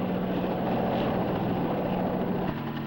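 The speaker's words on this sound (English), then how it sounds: "Floyd, look. It's a helicopter." A helicopter flies overhead near a rural town, a steady, loud rotor drone with a low hum that fills the whole stretch without a break and with no voices over it.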